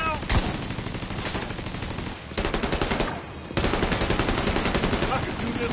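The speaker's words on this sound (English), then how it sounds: "We got a turret now!" A mounted turret fires rapid automatic bursts in a video game, loud, dense and continuous with brief pauses between volleys, with a player's voice faintly present.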